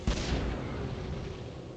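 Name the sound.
flash grenade exploding in the video game Cyberia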